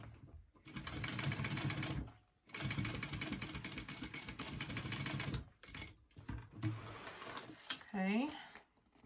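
A sewing machine stitches a handbag in several bursts of rapid mechanical whirring, pausing between runs, close up, with a voice speaking near the end.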